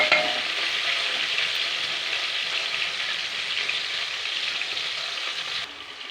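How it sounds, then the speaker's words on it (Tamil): Chopped tomato and onions sauté in a pan, giving a steady, even sizzle with a faint crackle that holds throughout, close and moderately loud. "ஒரே ஒரு தக்காளி மட்டும் கட் பண்ணி வச்சு நான் வணக்கிறேன்"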